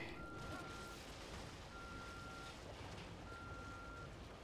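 Beeping in The Evil Within video game, a tone repeating roughly every second and a half over a dense, noisy game soundscape.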